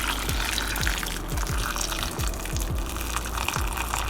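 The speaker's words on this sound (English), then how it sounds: "take our hot boiling water, pour it all over." Boiling water pours steadily into a bowl of frozen edamame, a continuous close splashing gush with faint low thumps underneath, no voices.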